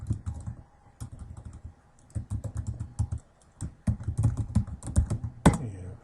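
Keys clatter on a computer keyboard as a username is typed at a login page, with irregular bursts of close, crisp clicks separated by short pauses.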